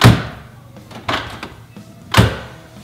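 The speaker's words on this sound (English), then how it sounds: "This door closes solid." A 1967 Pontiac Firebird convertible door shuts with a solid, heavy thud, followed by softer clicks and a second firm closing thunk, close by.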